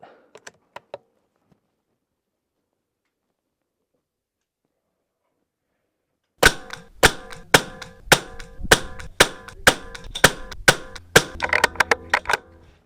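Sharp .22 rifle shots fired at an ELEY target, about a dozen crisp reports in a steady rhythm spaced roughly half a second apart, close and loud, following a few quiet taps and a long silent stretch.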